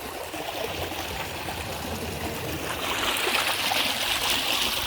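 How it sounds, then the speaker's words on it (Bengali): A clear, clean river current runs past fishing nets in a rural waterway, a continuous rushing and trickling wash that swells slightly louder toward the end, with no one speaking. "পানির স্রোত মোটামুটি ভালো।"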